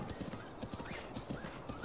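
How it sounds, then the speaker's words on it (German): Horse hooves clip-clopping at a steady trot while riding in Zelda: Breath of the Wild, a short, faint run of rhythmic hoofbeats. "ich kann auch einen anderen Weg reiten."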